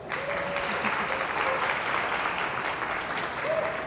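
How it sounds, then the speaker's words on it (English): A round of applause from an audience for a participant named Juan, sustained steady clapping throughout without a break. "give Juan a round of applause"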